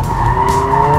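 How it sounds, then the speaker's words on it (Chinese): A Honda Civic Type R, a front-wheel-drive hot hatch, slides in lift-off oversteer on a track, its tires squealing in a loud continuous wavering screech under engine noise. "这种前驱的纯粹的钢炮，收油门，车尾就来了"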